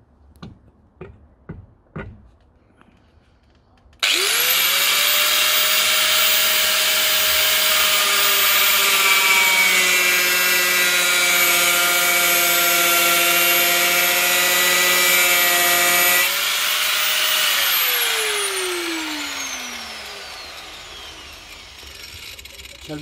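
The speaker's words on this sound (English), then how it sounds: "When everything else fails, the grinder comes out." Angle grinder spinning up on the rear wheel arch of a 1993 GC8 Subaru Impreza WRX STI, a few clicks first, then a loud steady high whine held for about twelve seconds before winding down with a falling pitch.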